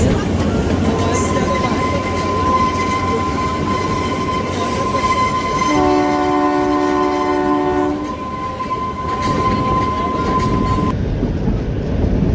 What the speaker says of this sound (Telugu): ట్రైన్ స్పీడ్ అయితే ఇరవైలో వెళ్తుంది